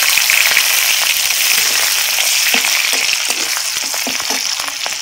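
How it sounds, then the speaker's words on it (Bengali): Crushed garlic and whole cumin with a bay leaf and a dried red chilli fry in hot oil in a wok, a loud, continuous close sizzle with occasional sharp crackles and stirring taps, no voices. "পেঁয়াজ রসুন দেখুন লাল লাল করে ভেজে নিয়েছি"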